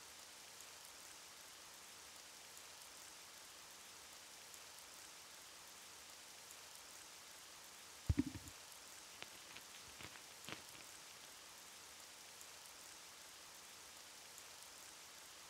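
Heavy rain falls in the video game Jagged Alliance 1.13, a faint, steady hiss of downpour throughout, broken midway by a few sharp, louder thuds.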